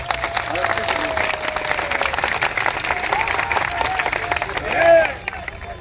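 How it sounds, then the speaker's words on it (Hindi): A crowd at a protest claps to welcome a speaker, the sustained applause mixed with cheering and a buzz of voices, swelling briefly near the end. "सर, आप एक बार जोर से उनके स्वागत के तालियां बजाएं"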